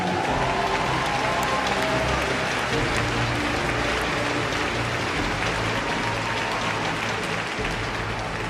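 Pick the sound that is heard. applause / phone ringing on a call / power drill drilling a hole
applause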